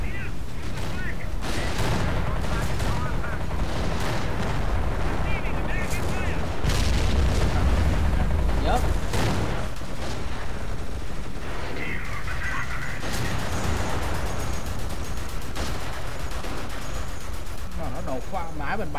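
Gunfire and explosions from a World War II real-time strategy battle in Company of Heroes, with rapid shots, bursts and heavy booms layered over a continuous battle din while someone talks over it.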